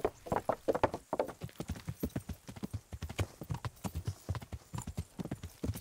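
Horse hooves clip-clopping at a fast, steady rhythm in the medieval game Kingdom Come: Deliverance, close and loud throughout, with a brief whinny near the start.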